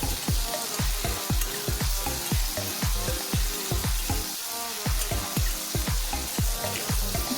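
Potatoes sautéing in a pan with a little salt, loud continuous frying hiss broken by rapid, regular scraping and knocking of a spatula turning them, close up with no voices.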